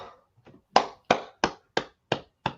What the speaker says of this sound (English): applause for that one